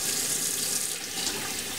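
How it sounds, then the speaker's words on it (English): Tap water runs steadily into a sink while hands are rinsed, a continuous close splashing hiss for a brief moment. "Rinse your hands."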